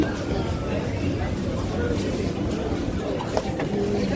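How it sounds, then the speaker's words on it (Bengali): A train arrives at a station near the Jadavpur 8B bus stand, a steady, dense rumble that fills the clip, with people talking over it. "ওই দিকটায় চলে এসছে ট্রেন"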